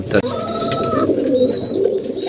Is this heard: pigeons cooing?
yes